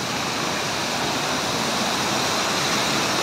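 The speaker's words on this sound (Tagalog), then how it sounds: "Tubunon Falls ang tawag dito mga idol." Tubunon Falls, a waterfall in Agusan del Sur, roars as a steady, loud, broadband rush of falling water, close and unbroken, with no voices over it.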